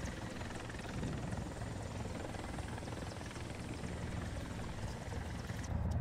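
Steady whirring helicopter rotor and engine drone in the video game War Thunder, continuous and fairly loud, with no talking.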